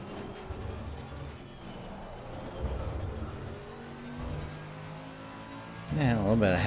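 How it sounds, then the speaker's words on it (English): A race car engine at an amateur racing event drones and revs close by, rising sharply near the end, while people talk over it. "Car sounds good though."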